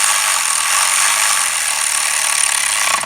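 Continuous rapid ratcheting of a hand ratchet snugging bolts down on a plastic valve cover during a valve cover gasket job, steady and close for about three seconds before stopping abruptly.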